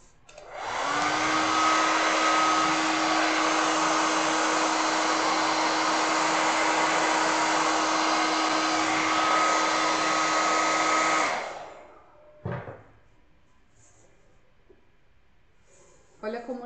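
A hair dryer blows steadily for about ten seconds while drying stencil paint on a kettle, then shuts off, followed by a brief clatter and quiet room tone.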